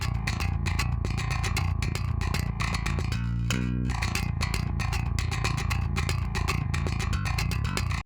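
Clean DI bass track from a progressive metal mix, played with the fingers so each pluck's attack comes through clearly in a fast, busy line, loud and alone throughout.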